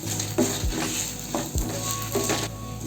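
Garlic and dried red chillies sauté in a pan for black urad dal chutney, a strong continuous sizzle with repeated spatula strokes scraping the pan at a slow, regular rhythm, close up.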